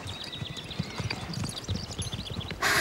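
Horse hooves clip-clop in a quick, uneven rhythm close by, steady for a couple of seconds before a brief louder burst at the end; no clear whinny stands out.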